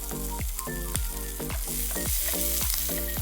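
Sliced onions and green chilies sautéing in a pan, a close frying sizzle broken by repeated sharp spoon scrapes and taps in a loose rhythm.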